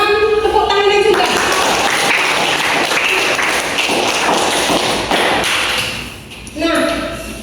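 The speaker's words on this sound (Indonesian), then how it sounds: "Silakan tepuk tangannya juga." A classroom audience claps in a teaching session, producing several seconds of dense, even clapping that sits between stretches of speech at the start and end.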